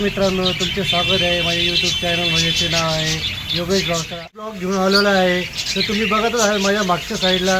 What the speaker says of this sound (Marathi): पक्ष्यांचा किलबिलाट ऐकू येत आहे.